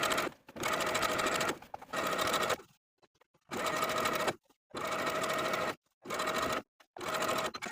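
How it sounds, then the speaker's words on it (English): Sewing machine topstitching a single row around the elastic waistband of fabric shorts, the elastic stretched as it goes: several steady running bursts of a few seconds each, separated by short pauses, close and alone. "I'm just going to be doing one row of top stitching, right along the middle all the way around, once again stretching that elastic as I sew."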